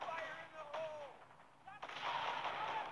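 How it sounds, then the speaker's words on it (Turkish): Rapid gunfire and a grenade explosion in the World War II shooter video game Frontline Commando D-Day, with bursts of shots and a heavy blast, fairly faint and mixed with in-game effects. "Bir tane daha el bombası atacağım arkadaşlar oraya."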